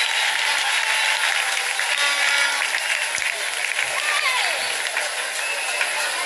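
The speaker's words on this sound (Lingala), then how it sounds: "On peut d'abord acclamer pour eux, ils sont restés fidèles" An audience at a church gathering claps in a sustained, dense patter of applause, with voices and shouts mixed in over it.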